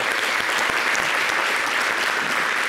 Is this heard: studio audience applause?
yes